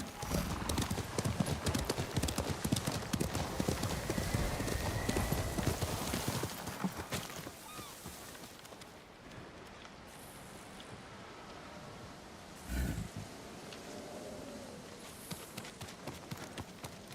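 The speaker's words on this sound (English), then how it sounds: "Horse." Horse hooves clip-clop in a rapid galloping rhythm in the Ghost of Tsushima video game, loud and close at first, then easing to a quieter, sparser walk with a brief thump and soft wind behind.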